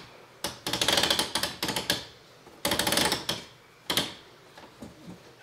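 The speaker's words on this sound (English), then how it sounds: "You hear ratcheting?" Plastic ratcheting from a vintage 1975 Mego Planet of the Apes Forbidden Zone trap playset's net being pulled down, heard as close, loud bursts of rapid clicks in several runs separated by short pauses.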